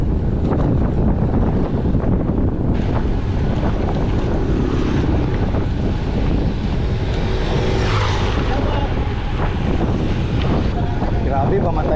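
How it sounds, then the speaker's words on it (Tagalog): Strong wind buffets the microphone without a break on an off-road ride over gravel hills at Colosboa Hills in Cuyapo, Nueva Ecija. It is a loud, continuous roar with a constant rumbling wash. "Grabe, pamatay yung hangin"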